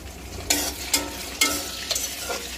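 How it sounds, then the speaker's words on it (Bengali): Onions frying in a pan toward golden brown, a steady close sizzle broken by four or five sharp scraping stirs of the spoon, no voices. "পেঁয়াজগুলোকে এখন লাল লাল করে ভেজে নিব, গোল্ডেন কালার করে"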